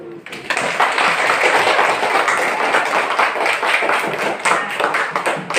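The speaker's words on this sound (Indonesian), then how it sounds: "kerja kelompoknya semuanya bagus, tepuk tangan dulu" Primary school pupils clap together in their classroom, a lively, continuous rattle of small hands lasting several seconds, fairly loud and close.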